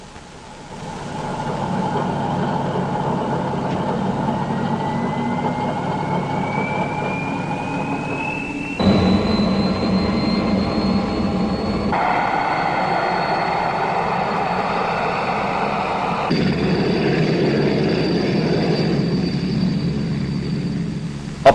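A military helicopter flies in a 1965 Bundeswehr army aviation film, a steady, continuous engine drone with shifting whining tones that holds at a fairly constant loudness throughout.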